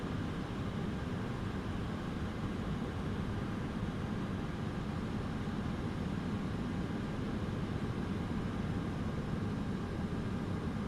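A TFDi MD-11 airliner in Microsoft Flight Simulator 2024 heard from outside, a steady broadband engine roar and rumble holding even and unbroken throughout.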